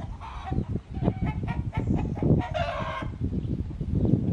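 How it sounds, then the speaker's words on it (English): Farm chickens cluck busily, close and loud, while a rooster crows among them, a dense, continuous barnyard chorus. "There are the chickens, guys."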